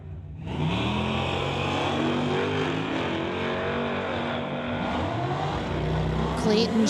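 Drag race launch between a 1978 Malibu and a 2019 Dodge with a 392 Hemi: loud, sustained engine roar revving and pulling hard down the track, with a commentator talking over it throughout.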